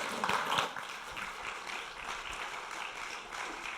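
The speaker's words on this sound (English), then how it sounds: "Let's give them another round of applause" An audience applauds at a community event, a moderate, fairly distant patter of clapping hands that holds steady throughout after a slightly louder start.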